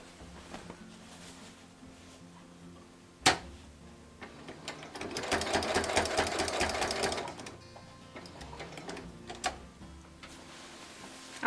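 A sewing machine stitching a quilted pumpkin table runner runs in a fast, dense burst of rhythmic needle clatter for about three seconds, framed by a sharp click and scattered mechanical ticks and handling sounds before and after.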